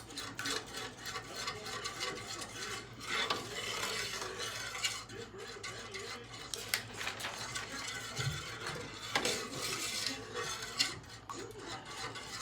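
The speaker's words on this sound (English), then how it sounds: "And then we're just gonna stir this around." Food marinating in a bowl is stirred around, producing quiet, continuous rubbing and clicking of a utensil against the bowl with irregular scraping bursts, close up and unaccompanied by talk.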